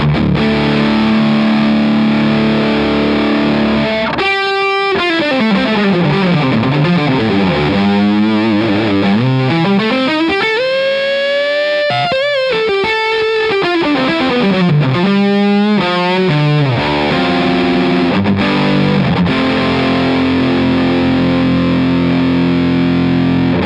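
Electric guitar runs through a Crazy Tube Circuits Motherload distortion pedal with the gain cranked fully up, giving a thick, saturated sustained tone with sliding, bending phrases, loud and continuous with no talking.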